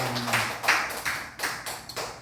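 A church congregation giving a round of applause during a Sunday thanksgiving service, heard as a few short bursts of clapping with a faint steady hum underneath.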